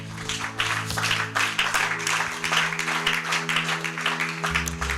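Church congregation applauding during a French-language sermon, sustained rhythmic clapping from many hands filling the room, with a low sustained keyboard or organ chord underneath.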